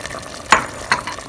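Corn flour mixture stirred into chilli chicken sauce in a pan, giving two brief close scraping, sizzling strokes over a low steady simmer.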